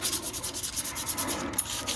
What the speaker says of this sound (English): Pretty much just a quick sanding.